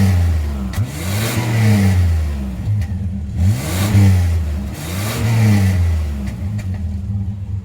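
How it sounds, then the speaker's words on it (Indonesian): A 1996 Mitsubishi Pajero with a 3.0-litre V6 revs repeatedly, its engine note climbing and falling in three close, loud surges with no talk over it. "Ini suara V6-nya ya."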